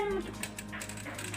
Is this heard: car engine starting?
no